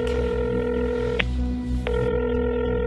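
Ringback tone on an outgoing phone call, steady tonal hum with two short clicks in the middle, close and clear with no talk.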